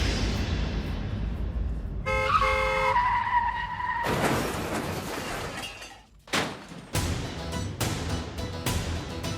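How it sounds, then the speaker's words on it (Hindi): A car skids with a long tyre screech and then crashes into another car, the sharp impact followed by scattered crunching and clattering debris. "आपने मेरी गाड़ी ठोक दी।"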